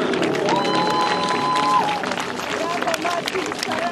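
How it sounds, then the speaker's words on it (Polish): Steady applause from a crowd at the Grunwald equestrian tournament fills the space, continuous clapping with cheering and lively chatter throughout, close and loud. "Brawa wielkie dla pana Andrzeja."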